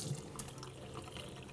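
Tap water running over cracked boiled eggs at a kitchen sink, a steady soft splashing stream that is fairly quiet and continuous for the whole short stretch, with no talking.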